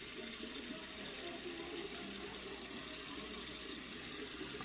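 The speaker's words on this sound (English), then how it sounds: "I know I'm just running this water." Warm water runs steadily from a bathroom tap into a sink, a constant soft hiss and splash with no pauses, fairly quiet and heard alone.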